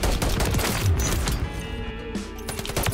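M56 Marksman Rifle fire in Call of Duty Modern Warfare 3, a dense run of loud gunshots blending with other battlefield gunfire, continuous and close throughout with no speech.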